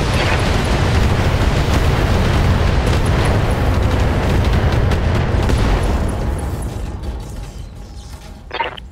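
Mech weapons fire and explosions in a BattleTech game rumble as a dense, loud, continuous barrage of booms and mechanical clatter, easing off toward the end with one last short burst.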